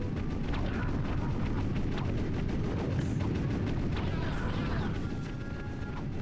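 In the Ratchet & Clank 2 video game, a turret's gunfire pounds out repeated heavy shots and booms, dense and loud, with game effects over a rumbling low roar.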